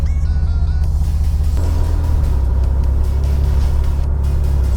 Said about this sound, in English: first drive here with the new wheel